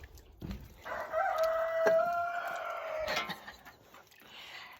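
Backyard rooster Larry, still young and irregular in his crowing, lets out one long wavering cock-a-doodle-doo near a compost area, heard fairly close with light rustling around it.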